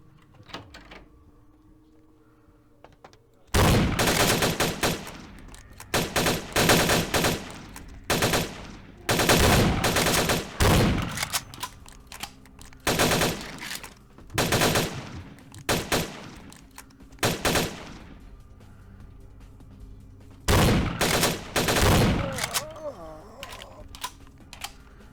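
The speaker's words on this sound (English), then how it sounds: "Yeah, he's shooting." Bursts of rapid gunfire in the Vampire: The Masquerade - Bloodlines video game, loud and close, arriving in repeated clusters of shots separated by short pauses, with talk in between.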